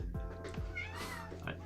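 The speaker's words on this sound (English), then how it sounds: "He's meowing in pain" A cat meows in apparent pain, several short mewing cries with rising and falling pitch, fairly close and moderately loud over a low steady background hum, with no speech over it.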